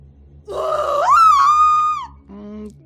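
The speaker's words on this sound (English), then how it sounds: "to perform her signature scream at a local convention for monster movie fans" A strained, groaning scream from an aging horror-movie actress performing her signature scream in What Remains of Edith Finch, rising into a long wavering cry that breaks off, then a shorter lower moan, loud and close over faint music.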